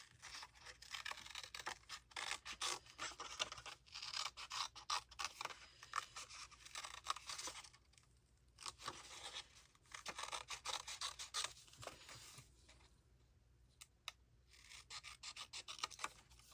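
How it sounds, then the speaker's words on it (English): Scissors cut along printed lines of a paper cassette tape pop-up template, producing close, quiet snipping and rasping paper sounds in irregular bursts with brief pauses. "So I'm going to cut that out, just right along the lines here."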